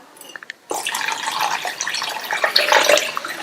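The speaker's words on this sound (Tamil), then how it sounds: "இப்ப குழம்புக்கு தேவையான அளவு தண்ணி சேர்த்துக்கலாம்" After a few faint drips, water pours steadily into a pot of curry, a continuous splashing, gurgling stream heard up close with no talking.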